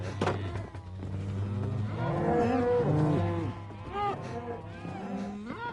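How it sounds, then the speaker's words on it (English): Minecraft cows moo loudly and repeatedly, their long drawn-out calls overlapping one another in the game while a player's voice talks underneath. "I figured the cows were too loud to really hear what I was saying"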